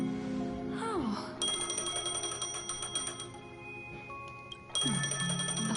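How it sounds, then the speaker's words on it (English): A phone rings with a bright, bell-like electronic trill that repeats steadily for a few seconds over a background of game music, then cuts off as a downward swooping tone starts. "A phone."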